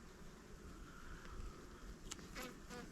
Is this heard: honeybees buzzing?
yes